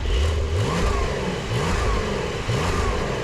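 A new Porsche 911 Carrera 992 revs in short repeated blips from its exhaust, each one rising sharply and then falling back, loud and close with no talking.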